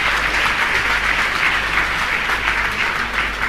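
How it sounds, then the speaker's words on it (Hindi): Loud, dense audience applause at a Jain religious gathering in India, a sustained, even roar of many hands clapping close by with no voices over it. "एक बार जोरदार तालियों से"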